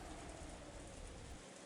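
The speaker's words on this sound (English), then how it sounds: "Outside it was still raining." Steady, dense rain in a video game, hissing continuously, a broad even wash of patter with no pauses or voices, fairly quiet throughout.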